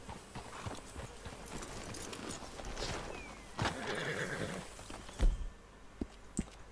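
Horses in the Red Dead Redemption 2 video game whinny and neigh while hooves clip-clop nearby, a few loud thumps breaking through the game's ambient background.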